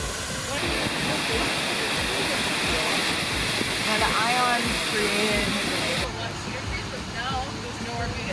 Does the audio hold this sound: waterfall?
yes